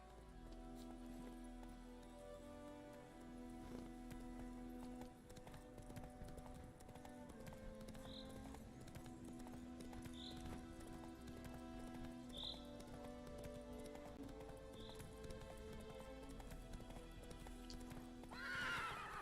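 Horse galloping in The Witcher 3 game, steady clip-clop hoofbeats under music with several short neighs and whinnies, faint rain in the background.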